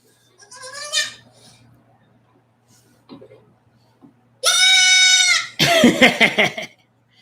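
A goat lets out two loud, drawn-out screams near the end, harsh and strained, after a few quieter bleats and rustles at the start.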